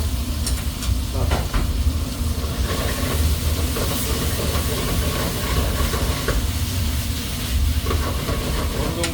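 Chopped and sliced garlic sizzling in oil for myeongnan oil, a loud, dense, continuous hiss and crackle heard up close throughout.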